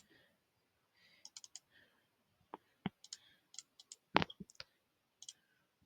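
A computer mouse clicks sharply and close by, scattered single and double clicks at irregular intervals in a quiet room.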